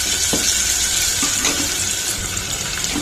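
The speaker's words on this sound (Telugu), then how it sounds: "ఇది కొంచెం వేగిన తర్వాత పప్పు వేసేసుకున్నాను" Lentils sizzle and fry in hot oil during a tempering with tender tamarind leaves, a steady close crackling hiss with a few faint clinks of stirring, no voices.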